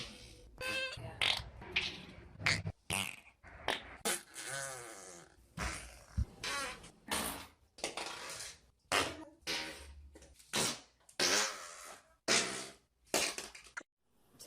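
A series of farts from a woman, about a dozen separate bursts of varying length, some sputtering and some drawn out, spaced through the clip with short gaps, loud and close, with no talking.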